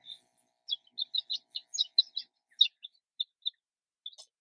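A voice imitates birds chirping: a series of short, high whistled tweets in uneven bursts, fairly close, with no other talk.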